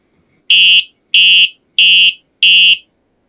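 Electric skateboard horn sounding four loud, evenly spaced electronic beeps, each about a third of a second, with short silent gaps between them and no talk.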